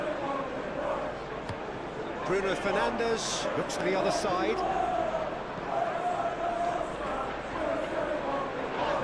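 Crowd noise from a simulated Premier League match between Tottenham and Manchester United swells steadily in the background, a continuous roar running beneath a commentator's play-by-play.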